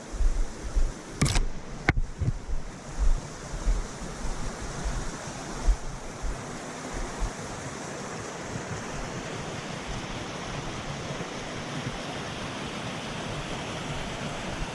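A stream flows out into the Gunpowder River in Hemlock Gorge, a steady broadband rush of water with wind, opening with a couple of sharp handling clicks near the microphone, then continuing evenly with no talk.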